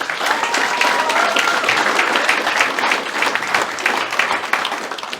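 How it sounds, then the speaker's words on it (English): A room full of people at an award celebration clapping steadily, a dense, even wash of applause throughout. "A round of applause for Maureen."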